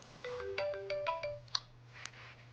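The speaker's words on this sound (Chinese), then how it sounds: "我电话响了" A mobile phone ringtone plays a short, quiet melodic phrase of stepped electronic notes with a couple of bright chime-like accents, set in an indoor drama scene with no talking over it.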